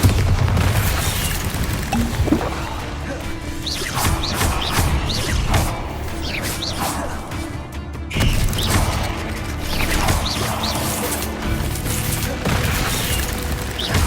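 Bombarda blasting spell from Hogwarts Legacy fired in combat against a giant spider, giving loud repeated booms and thuds over dense, continuous game effects and music.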